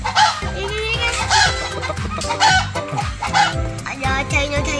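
Toy chicken in a toy shop clucking and crowing in a repeating electronic pattern over a bouncy tune, loud and close, with children talking over it.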